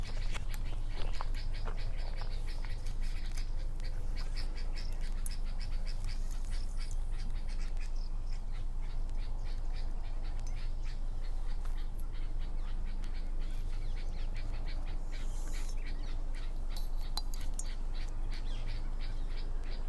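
Morning birdsong and calls at a flooded wetland, with ducks quacking and squawking among many scattered chirps and calls over a steady low hum, continuous and moderately distant, with no talking.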